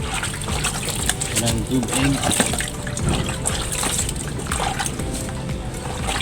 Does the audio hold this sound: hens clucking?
no